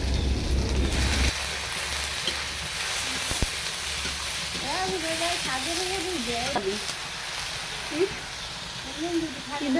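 Water lily stems sizzle and crackle as they fry in a wok, a steady frying hiss with stirring while a person talks over it.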